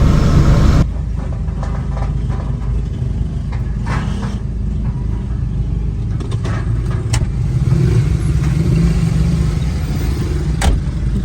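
Cars pull away on a road after a visit, a steady mid-range engine hum with light revving and passing road noise throughout, fairly close and without talk.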